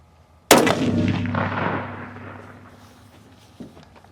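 A single loud, close .243 coyote rifle shot fired while sighting in a new scope, a sharp crack followed by a long rumbling echo that fades over a few seconds, with a faint thump near the end.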